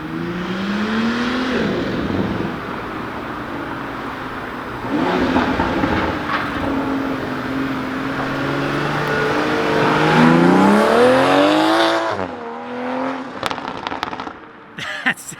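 2021 Toyota Supra with an aftermarket downpipe and intake driving past, engine droning and rising through revs with crackling pops on the overrun, loud and close throughout, with brief talk.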